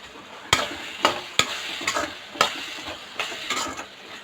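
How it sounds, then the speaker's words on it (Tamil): Eggplant sautéing in a pan for a Tamil home lunch, with repeated loud scrapes and clacks of a spoon stirring against the pan over a continuous sizzle, close by and without speech. "நான் 1/4 கிலோ அளவுக்கு கத்திரிக்காய் எடுத்து வச்சுருக்கேன், அதை போட்டு வதக்கிடலாம்"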